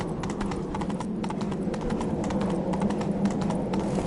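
Horse hooves clip-clop in a steady, brisk rhythm across a road in The Witcher 3 video game, a continuous trotting patter set over a low ambient hum with no voices.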